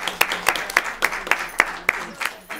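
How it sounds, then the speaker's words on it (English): Applause at a school committee meeting for student advisors, a small group clapping in a loose rhythmic pattern of distinct, fairly close claps rather than a dense roar. "how about a round of applause for our student advisors?"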